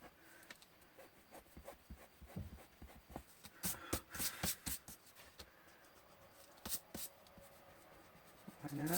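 Eraser rubbing on paper during a scrapbooking pocket-letter craft, heard as quiet, irregular scratchy strokes in short bursts, close and soft with no talk.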